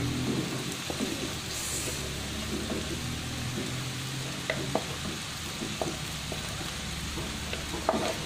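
Onion and green peppers fry in a pan, giving a steady, even hiss with scattered small pops and crackles that sound close and continue throughout.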